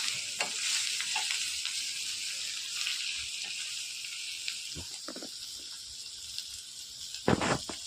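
Onions sautéing in a pan, made without LPG, give a steady broadband sizzle that runs the whole time, with occasional brief stirring scrapes and a louder clatter near the end.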